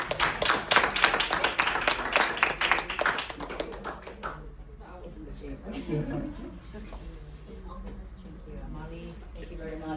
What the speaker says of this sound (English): Give a big clap to Miss Irene.